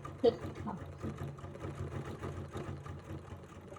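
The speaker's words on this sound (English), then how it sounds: "So now we are just stitching over" A sewing machine hums and stitches steadily over couched fibers, its quiet rapid mechanical rhythm running beneath a person talking close by.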